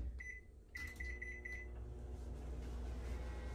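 A few sharp keypad beeps from a microwave oven, then its steady low hum as it runs on high heat to make chocolate fudge, close and continuous.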